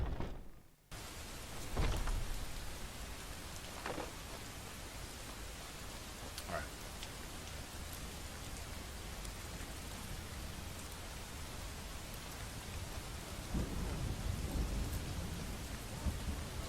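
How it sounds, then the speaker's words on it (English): Steady heavy rain pours outside during a thunderstorm in Skyrim, with several distant thunder rumbles and cracks rolling through the constant broadband hiss. "You can hear the storm outside, too."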